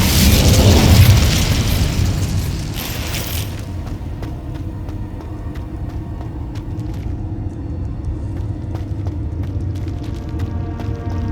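The Incendio fire spell goes off in Hogwarts Legacy: a loud, close whooshing boom at the start, then a low rumbling roar that fades to a steady hum.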